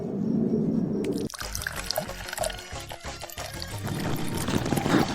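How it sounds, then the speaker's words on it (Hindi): Water is poured from a container into a person's mouth, splashing and gurgling loudly, with an irregular sloshing stream and sputtering close by. "सारा पानी मेरे मुंह नाक में जा रहा है"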